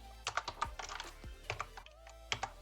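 Python code is typed on a computer keyboard, with quick irregular clusters of light key clicks separated by short pauses, close and fairly quiet, with no talking.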